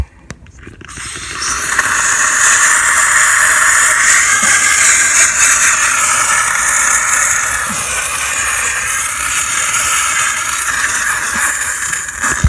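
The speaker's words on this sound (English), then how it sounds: "This is my steam cleaner, little silver crest one," A small Silvercrest steam cleaner steams the interior of a BMW E46 330 Ci Clubsport, a steady loud hiss that starts after a brief click and runs continuously for about ten seconds, with no voices.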